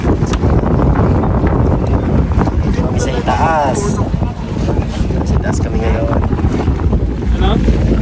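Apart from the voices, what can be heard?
boat travelling, wind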